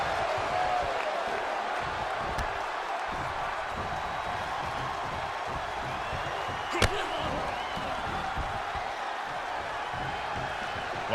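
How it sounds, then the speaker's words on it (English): Wrestling arena crowd in WWE 2K22 roars in a continuous, dense wash of cheering, with a sharp slam-like crack near the middle and another at the very end. "The sound of this crowd is deafening"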